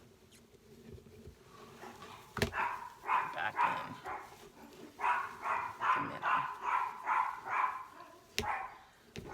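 Dogs bark in a burst of repeated yaps, then in a longer run of regular barks, somewhat distant and fairly faint indoors. A few sharp clicks and a brief spoken phrase come through.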